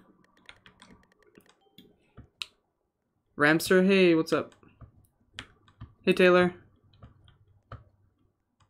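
Loud computer keyboard typing clatters in quick bursts of sharp clicks, interrupted by two short spoken greetings during a livestream of a Roblox horror game.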